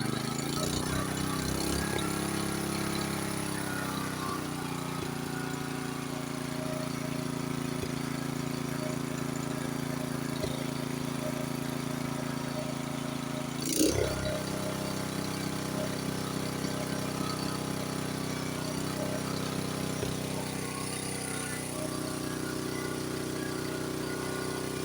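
A Honda HS828 snowblower engine runs at fast throttle with a steady mid-pitched drone, close and constant, with a brief surge partway through before settling back; no talk.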